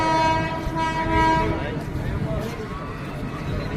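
An AC local train on the Sealdah division in eastern India, heard up close as a steady rumbling engine and carriage noise with a horn-like tonal blare early on, while people talk nearby.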